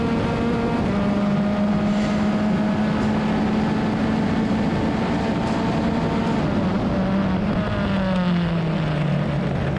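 A race car drives a track on worn tires, its engine a steady, loud, high-pitched drone that holds through most of the run, then drops in pitch near the end, with no voices.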